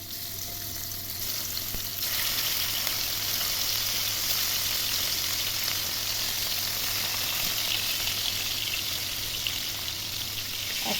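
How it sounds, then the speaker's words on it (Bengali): Stingray fish pieces frying in hot oil in a wok, a steady loud sizzle that swells after the first couple of seconds and then holds evenly throughout, with a low hum underneath. "কড়াইয়ে তেল চাপানো আছে, এবার আমি মাছগুলোকে এক এক করে ভেজে নেব।"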